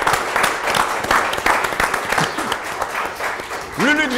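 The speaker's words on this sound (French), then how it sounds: "Bravo, Lulu. Applaudissements." Audience applause at a French live show, steady dense clapping through the whole stretch, with a voice shouting and talking over it near the end.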